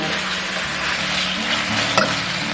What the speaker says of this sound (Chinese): 然后先把这个牛肉给它划一下。